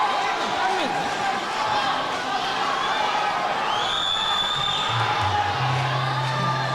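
A roaring, dense crowd packs a Muay Thai fight arena during the final round, shouting and cheering without letup, with a whistle and scattered whoops cutting through and a low horn-like tone near the end.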